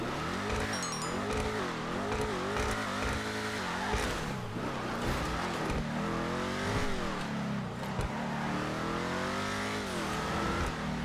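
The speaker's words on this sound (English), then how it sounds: "We're going to do a sound test as well as a full review on the car." Vapid Dominator FX muscle car in GTA Online, its engine revving up and down repeatedly in loud, close rises and falls, with some tire squeal, alone without talk.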